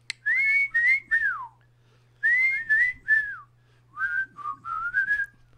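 One person whistling a tune up close, clear melodic phrases in three bursts separated by brief pauses, with a low steady hum underneath.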